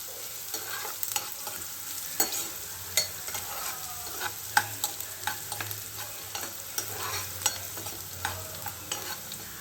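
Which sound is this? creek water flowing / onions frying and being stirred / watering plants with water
onions frying and being stirred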